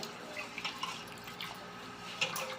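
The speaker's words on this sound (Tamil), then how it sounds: "தண்ணியில் அரிசி கொட்டினோடனே மேலாக ஒரு தண்ணியை ஊற்றி" Water poured over rice being washed by hand, a soft, uneven splashing and trickling with faint drips, close and fairly quiet, alone without talk.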